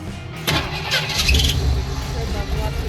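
A car with a home-built TH400 automatic transmission starting up for a test drive: the engine cranks and catches with a rough burst, then settles into a steady idle close by as a voice talks.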